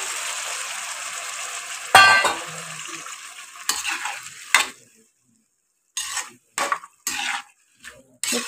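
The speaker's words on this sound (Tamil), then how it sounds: "புளியை சேர்த்து நல்லா வதக்கி விட்டுருவோம்." Tamarind mixture being sautéed and stirred in a pan, with soft sizzling and scraping strokes arriving in short bursts separated by quiet pauses, close by and moderately loud.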